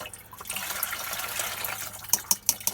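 Liquid clay slurry pours through a strainer in a continuous wet, splashy rush, close to the listener, ending with a few distinct drips and spatters.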